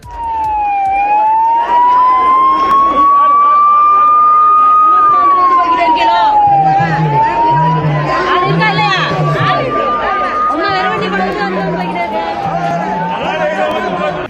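An ambulance siren wails loudly and rises and falls repeatedly as it passes fishermen holding a road-blockade protest, with crowd chatter and voices underneath.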